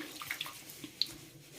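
Potatoes being washed by hand in a basin of water for chips: faint, soft splashes and sloshing with a few brief drips, close by and quiet, with no talking.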